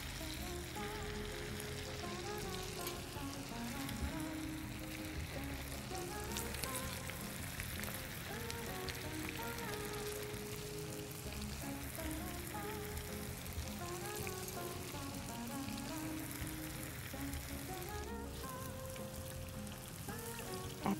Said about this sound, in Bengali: অবশ্যই এটাকে বেশিক্ষণ ভাজবেন না, তাতে পনিরগুলো ফুটে বেরিয়ে আসার একটা ভয় আছে।